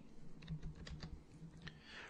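Fingers type on a computer keyboard in a quick, soft run of close key clicks at low level, with a brief pause near the end.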